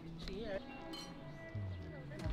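Glasses of fresh-juice margarita and sangria clink together in a toast, with two light, bright chimes heard under steady chatter.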